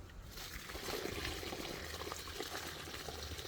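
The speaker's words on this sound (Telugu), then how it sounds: "గుంట తీసుకొని దీంట్లో కొన్ని వాటర్ పోయాలి" Water is poured into a freshly dug planting pit for a papaya sapling, making a soft, continuous splashing trickle heard close and fairly faint, with no talk.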